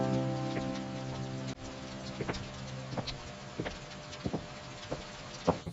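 Rain falling in a calm children's animation, soft scattered drips and patter on surfaces, quiet and steady with a few louder drops, alone with no talking.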